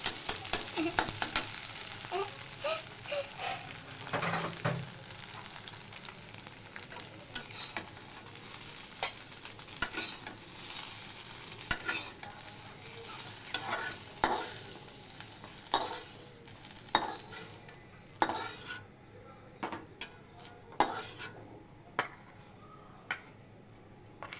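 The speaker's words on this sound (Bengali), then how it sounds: "এরপর হচ্ছে পেঁয়াজ দেবো" Onions frying in mustard oil in a pan, with a continuous sizzle and repeated scraping stirs and light spoon ticks, growing more separate and clicky toward the end.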